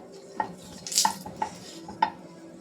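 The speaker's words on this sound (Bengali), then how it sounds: "কড়ার চারদিকে তেলটাকে একটু নেড়ে নিলাম যাতে মাছটা না লেগে যায়।" Oil is swirled around a hot kadai before fish goes in, giving a few sharp metallic scrapes and clinks of a spatula against the pan over a faint low sizzle.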